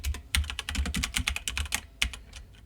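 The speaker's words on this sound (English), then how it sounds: "let's go ahead and type in Microsoft MakeCode" Rapid clattering keystrokes on a computer keyboard, close up, in a quick run of taps with a short pause before a final few, no voices.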